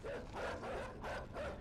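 Dogs in the video game Inside bark in a rapid series of three or four muffled, moderately loud yaps, with no voices over them.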